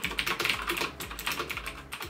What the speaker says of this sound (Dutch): En deze hebben zowel een voelbare klik als een duidelijke klikgeluid bij het indrukken van een toets.